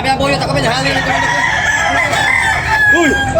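A rooster crows over a busy, noisy background at a rooster sale, with other birds and faint voices mixed in.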